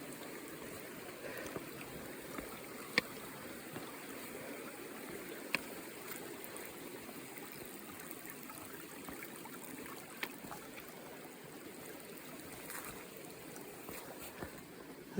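Steady, soft rush of Bear Creek flowing at a trail crossing, with a faint trickling texture, continuous and moderately distant, with a few small clicks and bumps.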